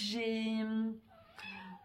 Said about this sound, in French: C'est le chat.